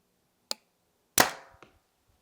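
Self-built archery bow shot outdoors: a faint click, then a sharp loud snap of the string release with a short decaying ring, and a brief knock just after, close and without talk.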